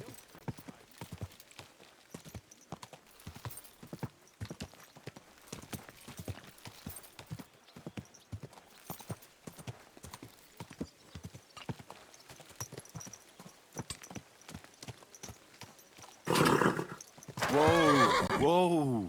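Horse hooves clip-clop in a steady rhythmic gait in the Kingdom Come: Deliverance II video game, ending in a loud, close neigh and whinny.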